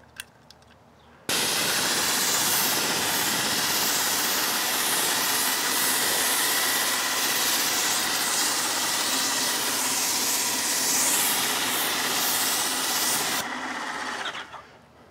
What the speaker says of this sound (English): Hear that pump? It really kicks the product out.